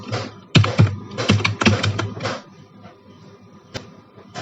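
Quick bursts of keystrokes on a computer keyboard while entering list values into an Excel spreadsheet, a dense flurry of clicks for about two seconds, then a pause and a single late tap, close and fairly loud.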